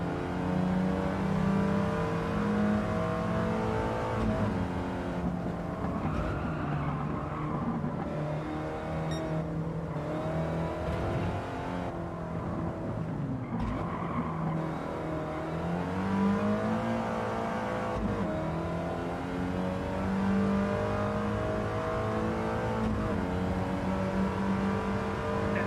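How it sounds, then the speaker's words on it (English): Engine of a race car in Gran Turismo 7 revs hard and climbs through gears during a National B race, a steady loud droning whine with rising pitch sweeps and brief dips at shifts. "Acceleration is so fast on this car now."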